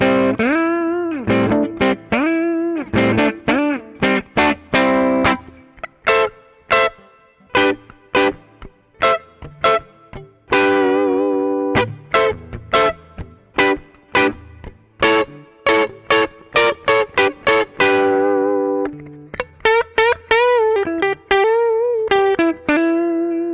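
A 2021 satin red Harden Engineering Bronco Buster electric guitar plays with both pickups combined, giving a bright, slightly driven tone as a run of quick single notes and short chord stabs rings out clearly, with no talking.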